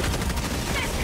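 Heavy machine gun firing in the video game Helldivers 2, a loud, dense burst of rapid gunfire packed into about a second with no gaps.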